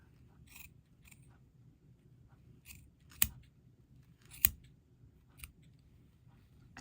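Scissors trim looped ends of yarn pom-poms made on a Red Heart pom-pom and tassel maker, giving a few crisp, separate snips at irregular intervals over a quiet room hush, with no talking.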